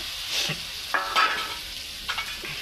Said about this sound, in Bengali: এবার আমি মাথাগুলো দিয়ে ওর সঙ্গে একটু কষবো